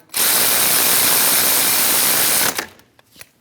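A powered ratchet snugs down the brake caliper bolts on a 2016-2025 Chevrolet Malibu in one loud, continuous buzzing whir lasting over two seconds, then cuts off into a few sharp clicks and knocks.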